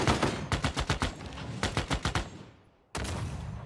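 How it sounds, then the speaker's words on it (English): Rapid bursts of automatic gunfire from a tank attack in the strategy game Civilization VI, loud and close, with several rapid volleys that fade into a rumble before a sharp new blast resumes. "now if I hit with the tank"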